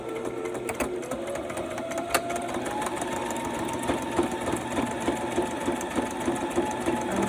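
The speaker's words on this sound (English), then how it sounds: "I have black thread in my sewing machine, so I'm just going to use that. And I'm going to do a zigzag" A domestic sewing machine sews a zigzag stitch in black thread along a fabric edge for a Christmas pocket, giving a steady close mechanical whir with rhythmic needle clatter that runs without pause.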